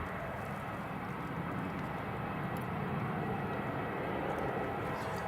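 Aircraft at Newcastle Airport during Storm Darragh, with EasyJet and Jet2 planes lined up, give a steady, broad engine roar mixed with wind and rain noise that holds constant throughout.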